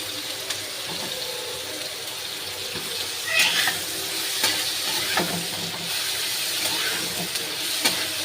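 Potatoes go into a pan with sour yogurt, setting off a continuous sizzle and hiss, with scattered scraping and clinking as they are stirred.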